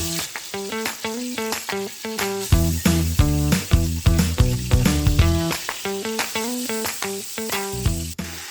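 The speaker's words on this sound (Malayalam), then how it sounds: "ഇച്ചിരി വെള്ളം ഉണ്ടായിരുന്നു പാത്രത്തിൽ, അതുകൊണ്ടാണ് ആ പൊട്ടിത്തെറിക്കുന്നത്" Hot oil spatters and pops loudly in a pressure cooker, a dense run of sharp crackles over continuous sizzling, set off by a little water in the pot before chicken goes in.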